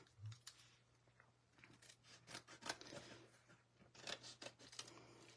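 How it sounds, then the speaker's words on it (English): Scissors snip a small piece of paper at a craft table, giving faint, quiet crisp cuts and rustles scattered over several seconds, with a low steady hum underneath. "Just gonna cut a little piece of paper."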